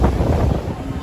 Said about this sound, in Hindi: हवा चल रही है भाई